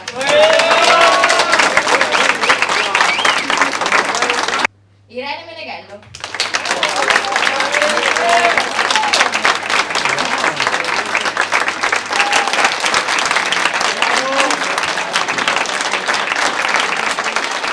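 Audience applause for scholarship students at a Dieffe school award ceremony, steady loud clapping across the room, briefly interrupted by a spoken name over a quiet gap before the applause resumes.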